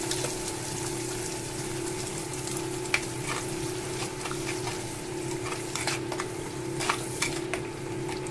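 Ground masala paste sautéing in oil with cinnamon and cloves in a pan, a close continuous sizzle with stirring clinks and spatters over a steady low hum, no speech.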